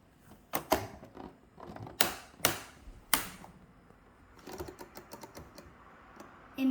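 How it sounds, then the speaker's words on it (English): A Lego-built typewriter mechanism clicking: a few sharp, separate plastic clacks early on, then a quicker run of lighter ticks and rattles, close and quiet, with no talking. "It moves by clicking, and when you press the button, it makes it click and it makes the paper move"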